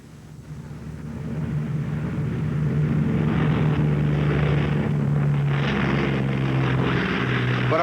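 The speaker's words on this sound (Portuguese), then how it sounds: "Este é um B-17 descendo numa roda só e com uma prece." Boeing B-17 bomber coming down to land on a single wheel, its engines a loud steady drone with strong low harmonics that swell in over the first seconds and hold throughout.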